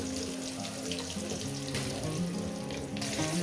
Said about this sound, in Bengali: এবার এটাকে সাত মিনিট ধরে আমি ভেজে নেব